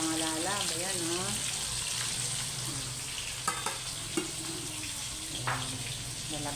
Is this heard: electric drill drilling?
no